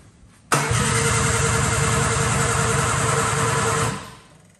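A car engine cranks on the starter with the ignition coil disconnected so it cannot fire, a loud, steady mechanical whirr that begins abruptly and runs about three and a half seconds before winding down.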